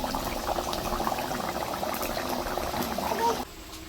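A pot of tapsi fish curry in mustard paste simmers on a stove, giving a continuous soft bubbling and gurgling that stays close and steady before dropping to a quieter hiss at the end.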